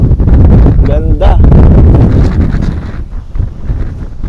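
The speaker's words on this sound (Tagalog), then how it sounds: "Sobrang lakas ng hangin" Strong mountain wind on the Mt. Balagbag trail buffets the microphone with a constant heavy rumble, while a voice briefly exclaims over it.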